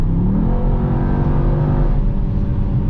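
A Mercedes-AMG GT63 S E Performance accelerates hard from a standstill, a loud close engine note climbing steadily in pitch through the gears with a whirring undertone and no talk.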